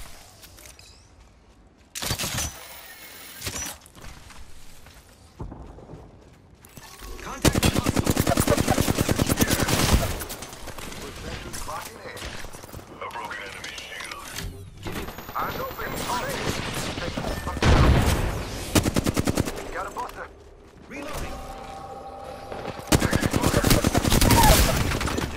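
Video game gunfire comes in repeated bursts of rapid automatic shots and heavy volleys, some loud and near, others quieter, with speech heard between the bursts.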